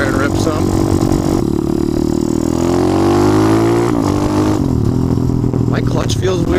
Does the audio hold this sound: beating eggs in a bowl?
no